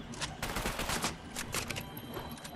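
Rapid video-game gunfire in an online arena match, a quick volley of crackling shots packed close together, fairly faint and continuous across the short stretch.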